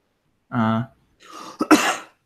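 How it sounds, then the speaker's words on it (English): A short vocal sound is followed by a couple of harsh, abrupt coughs or throat-clearing bursts, close by. "so you were coughing."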